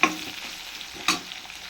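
Vegetables with salt fry in a pan, a soft continuous sizzle with two sharper stirring scrapes close by, no voices.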